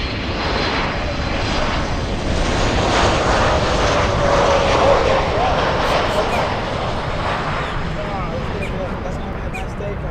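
A passenger airplane taking off at Miami International Airport fills the air with a broad, steady engine roar that swells slightly midway and holds loud throughout, with people talking nearby.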